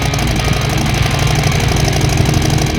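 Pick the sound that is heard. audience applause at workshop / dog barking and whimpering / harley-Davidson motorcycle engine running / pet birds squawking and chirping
harley-Davidson motorcycle engine running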